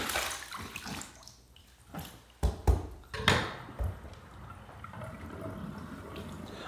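Water splashing as a face is rinsed after a shave, a few close splashes and drips followed by a soft running trickle, fairly quiet.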